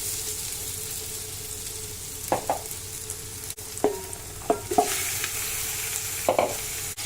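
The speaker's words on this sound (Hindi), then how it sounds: "प्याज को बस इतना ही फ्राई करना है। इसमें मटर ऐड कर लेते हैं।" Onions and peas fried in a pan for Kabuli pulao, a soft continuous sizzle under several distinct spoon scrapes and clinks against the pan.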